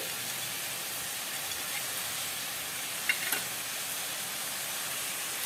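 Grated carrot and milk for carrot halwa cook on a high flame, giving a steady, even sizzling hiss with a couple of faint clicks partway through.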